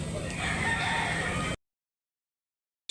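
A rooster crows loudly at a busy chicken market in Consolacion, Cebu, with crowd noise behind it, then the sound drops out abruptly to silence before returning briefly at the end.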